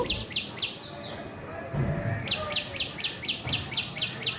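A tiny bird chirps loudly and rapidly nearby in a repeating series of sharp, bright notes, with a brief pause in the middle, over a low background murmur.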